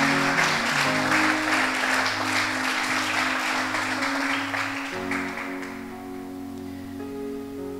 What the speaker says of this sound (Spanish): dale un aplauso a Jesús, por favor.